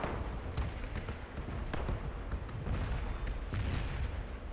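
Bombs detonating inside the red bomb zone in the PUBG battle royale game, a steady barrage of loud booms and crackling blasts, some near and some distant, rolling continuously with no break.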